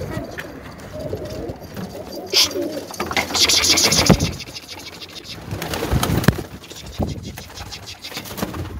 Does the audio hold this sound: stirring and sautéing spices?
no